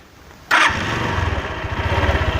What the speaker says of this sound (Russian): заводим стартером.